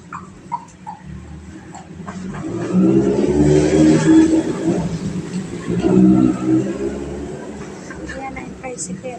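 A motorized tricycle engine revs up and holds a rising drone, then eases off and swells again, loud and close, with people talking over it.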